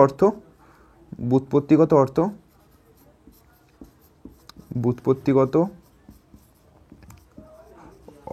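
A teacher's chalk or marker scratching across a classroom board in short bursts of rapid strokes, separated by pauses, with a voice talking faintly in between.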